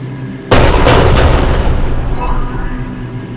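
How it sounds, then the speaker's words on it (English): A cruiser cannon bombardment in the video game Mass Effect 3 lands as a single heavy, booming blast that hits suddenly and then rolls on in a loud, rumbling decay. "Cruiser initiating bombardment."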